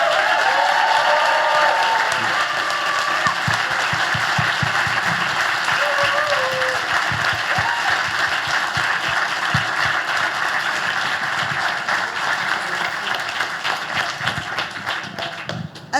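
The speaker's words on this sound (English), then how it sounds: "keep that round of applause going for all of our panelists" Sustained applause from a crowd at a panel event, dense clapping that holds steady for about sixteen seconds with faint crowd murmur and slight tapering toward the end.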